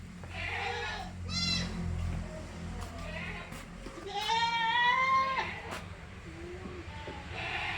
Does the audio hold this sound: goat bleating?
yes